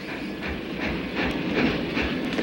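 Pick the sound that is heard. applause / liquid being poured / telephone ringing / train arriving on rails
train arriving on rails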